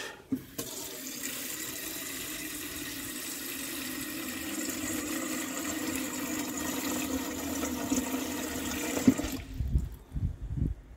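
Fresh thyme rinsed under a running kitchen tap: a steady, full rush of water splashing into a sink for about nine seconds, then cutting off to a few faint handling knocks.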